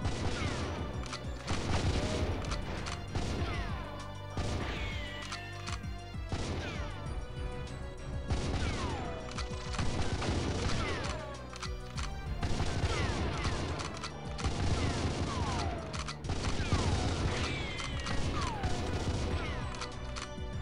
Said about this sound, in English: Nice shootout here in the walkway.